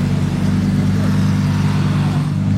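A Performante Spider sports car cruising calmly, its engine a low, steady rumble that stays even and unhurried with no revving for the whole moment.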